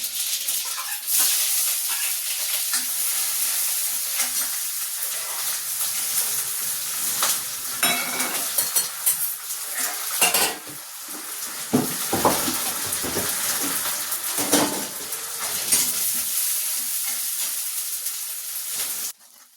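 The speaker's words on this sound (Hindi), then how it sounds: "तो यहाँ पर फ्रेंड मैंने फ्राई कर दी सब्जी को" Vegetables sizzle and hiss in a hot pan with cumin, mustard seeds, green chili, onion and garlic, a steady close-up frying crackle broken by the scrape and clatter of stirring.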